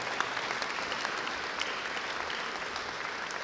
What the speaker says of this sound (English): Can we give Nora a round of applause today?